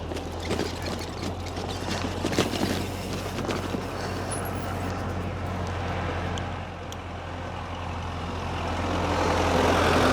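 A tractor rolls along a mountain road near Shchebetovka, its steady low engine drone and rumble sustained throughout, moderately close, with wind-like broadband noise and no talk.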